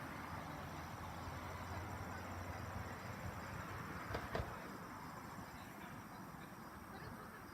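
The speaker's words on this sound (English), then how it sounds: "You can see maybe the bees just flying all around." Honeybees fly around a cluster of beehives on a sunny day, giving a steady, faint, low buzzing drone throughout with a brief click near the middle.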